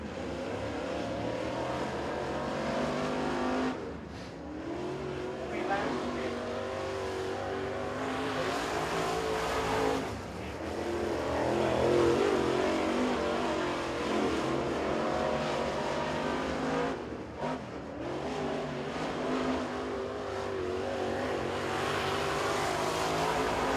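A crate late model race car runs a qualifying lap at Crossville Speedway, its engine roaring steadily and surging through the turns with loud, sustained revving and brief lifts off the throttle.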